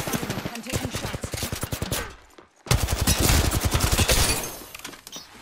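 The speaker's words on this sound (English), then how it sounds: "I'm taking shots." Rapid automatic weapon fire in the video game Apex Legends rattles in dense bursts, pauses briefly, then resumes in a steady stream, fairly quiet overall.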